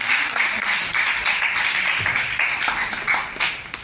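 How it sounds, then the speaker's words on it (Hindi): A crowd at a prize-giving applauds a winner of a washing machine with dense, continuous clapping that holds steady and then thins slightly at the end. "तो आरती मैम की जोरदार तालियां हो जाए"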